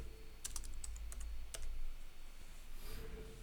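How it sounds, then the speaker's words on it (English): Typing on a computer keyboard: a short run of quick, light key clicks in a small cluster, then a couple of isolated taps, faint and close over a low background hum, with no talk. "Alright, let's type in Cyprus."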